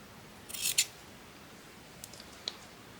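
Scissors snip twice in quick succession, close and crisp, while trimming a shabby-chic Christmas craft piece, followed by a few faint clicks and a small snap in an otherwise quiet room.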